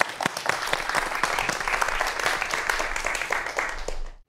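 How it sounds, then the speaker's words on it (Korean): An audience claps for a space exploration lecture by astronomer Lee Myung-hyun, a burst of lively applause from a room full of people, crisp individual claps within the crowd, fading quickly at the end. "이명현 박사님의 강연 큰 박수로 청해 보겠습니다."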